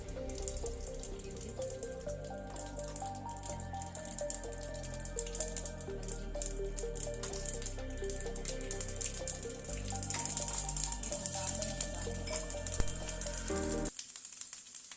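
Mustard seeds dropped into hot oil sizzle and crackle continuously, a dense steady frying hiss with sharp popping, close and fairly loud, ending abruptly near the end.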